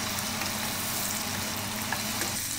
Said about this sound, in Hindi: प्याज को डाल के भी हम इसको भूनेंगे अच्छे से, ताकि प्याज का कच्चापन खत्म हो जाए और सोंधापन आ जाए